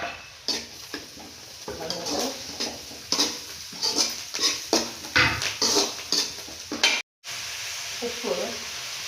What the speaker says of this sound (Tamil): இப்போது இந்த சமயத்தில் நம்ம ஏற்கனவே வெட்டி வச்சுருக்கோம்ல இஞ்சி பூண்டு அதை போட்டுக்கலாம்